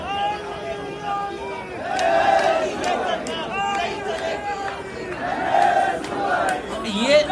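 A political protest crowd demanding a resignation, a mass of voices chanting and shouting together at a distance, rising and falling in waves of overlapping babble.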